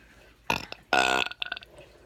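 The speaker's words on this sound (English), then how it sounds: "a burp was already ready to come out" A person lets out loud, close burps, a short one followed by a longer, throaty eructation that trails into smaller gurgling bursts.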